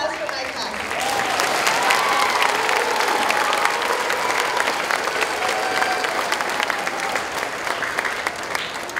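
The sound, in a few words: audience applause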